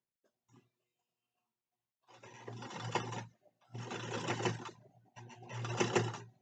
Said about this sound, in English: we're just going to sew a bazillion stitches right here